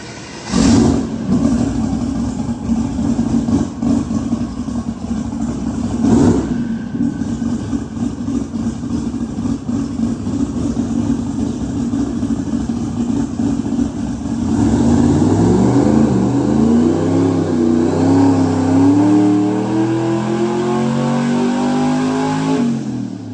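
A twin-turbo LS V8 runs on a dyno. It idles with a couple of sharp blips, then climbs through a long, loud, rising rev pull, close and continuous.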